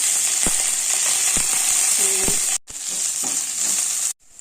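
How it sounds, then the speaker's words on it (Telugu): Mustard seeds, cumin, onions and curry leaves sizzle loudly in hot oil, a dense hissing crackle with a few quick pops and stirs, cutting out briefly twice. "ఆయిల్ హీట్ అయ్యాక కొంచెం ఆవాలు, కొంచెం జీలకర్ర, ఆనియన్స్, కరివేపాకు."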